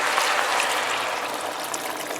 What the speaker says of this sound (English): And then we'll put some water on here to cover.